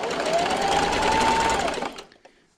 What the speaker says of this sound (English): See you at the sewing machine. Alright guys, so this time I am going to backstitch also.